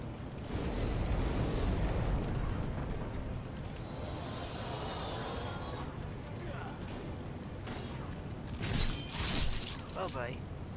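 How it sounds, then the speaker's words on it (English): Fiery bursts from an attack in Demon's Souls, a sustained roaring rumble with crackling hiss and a few sharper bursts near the end, loud and continuous throughout. "The fire trick again."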